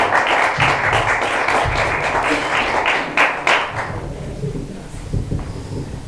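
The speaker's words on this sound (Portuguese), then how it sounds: "As palmas louvam o Senhor." A church congregation claps in praise, a broad, rumbling applause that stays full for a few seconds, then thins out and fades to scattered claps and room noise.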